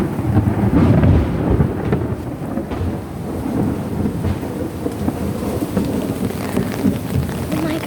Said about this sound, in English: Why is it raining so much lately?